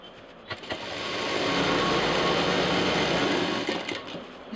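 An electric sewing machine runs steadily, stitching printed backpack fabric pieces together, its whirring motor building to a continuous, fairly loud hum through the middle before easing off with a few soft knocks at the start and end.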